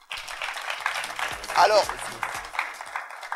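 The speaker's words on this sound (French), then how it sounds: "Ça mérite des acclamations, mesdames et messieurs." People at a live art exhibition applaud in a steady patter of clapping, moderately loud, with voices talking over it and a brief exclamation partway through.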